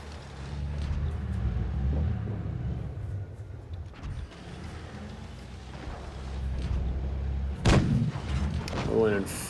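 Tank cannon fire in World of Tanks Blitz booms over a steady low engine rumble, with a sharp heavy shot near the end while someone talks throughout.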